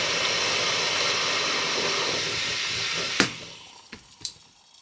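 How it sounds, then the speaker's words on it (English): A Soto Stormbreaker camping stove roars steadily with a broad, loud hiss under a pot at a rolling boil, then cuts down abruptly, leaving a few sharp clicks and pops as the flame drops. "We have achieved a rolling boil, so turn it to air"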